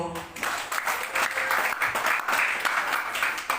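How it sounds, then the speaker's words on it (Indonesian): Applause from a congregation at a church youth Christmas celebration in Jakarta, dense and lively clapping that swells quickly and stays full and close. "Luar biasa. Tepuk tangan dong."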